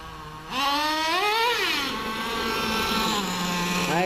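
A Traxxas T-Maxx nitro RC truck with a slightly loose slipper clutch bursts from idle into a loud, high-pitched rev, pitch climbing and dipping, then settling into a steady whine before rising again.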